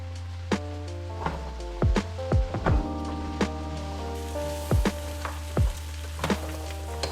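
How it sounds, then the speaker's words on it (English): Sweet potatoes and carrots saute in a pot for coconut soup, a soft steady sizzle broken by scattered sharp pops and taps, close by with no one talking. "Add the sweet potatoes and carrots, mix and saute for about another 5 minutes and stir occasionally."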